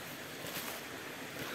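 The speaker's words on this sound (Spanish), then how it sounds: "Oigan qué bonito se escucha el agua fluir ahí entre las piedras." River water flowing between stones at crystal-clear pools in Michoacán, a brief, steady broadband rush of moving water, close and even, with no voices.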